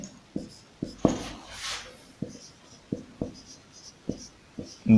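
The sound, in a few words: writing on a board during a lesson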